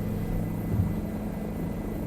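Helicopter in Microsoft Flight Simulator flying low over a safari scene with flamingos, a steady rotor and engine drone that stays loud and continuous with no speech.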